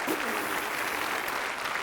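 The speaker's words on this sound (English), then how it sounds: "Round of applause for Mark." A brief burst of clapping and cheering, dense and steady throughout, as if from a crowd.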